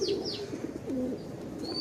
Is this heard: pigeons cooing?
yes